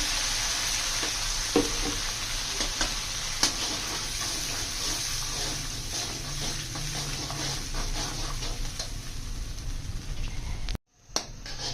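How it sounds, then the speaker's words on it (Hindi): Steady sizzling of kebab karahi gravy frying in a pan, a dense hiss broken by a few sharp pops and crackles, close by with no talking. "ये देखिए ग्रेवी को हमने थोड़ा सा भून लेना है।"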